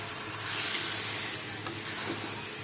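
Half a kilo of lote fish cooking in raw oil for a Bengali jhaal, a dense close sizzling hiss with a couple of faint clinks, no voices.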